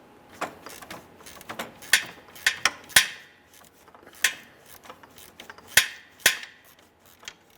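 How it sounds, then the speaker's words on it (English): 13mm wrench loosening the AC condenser mounting studs on a 2013-2020 Ford Fusion 2.0L, sharp metallic clicks and clanks in irregular bursts, close up, with no talk. "Use a 13mm to remove each of these"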